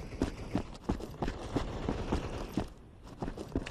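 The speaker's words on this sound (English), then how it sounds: "Footsteps loud as fuck." Rapid, evenly spaced footsteps thud loudly in a zombie shooter video game, a quick running rhythm over a dense background of game noise.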